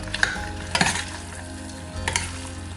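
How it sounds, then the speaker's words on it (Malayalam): Half a kilo of mutton is stirred into curry masala in a pressure cooker pot, three distinct scraping stirs over a soft continuous sizzle, close and alone. "1/2 കിലോ മട്ടനാണ്, അത് ഇട്ട് കൊടുത്തിട്ട് നന്നായി ഇളക്കി മിക്സ് ചെയ്യാം"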